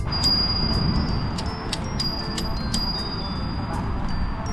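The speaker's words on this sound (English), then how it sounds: "Nobody is paying attention to my little bell sound." A small, high bicycle bell on a Brompton dings several times in quick, light strikes over a steady low rumble of rolling wheels on gravel.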